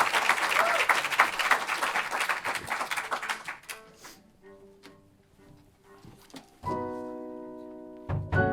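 Concert audience applauding at a private radio concert: loud, dense clapping and crowd noise that fades out, then sustained instrument tones start up near the end.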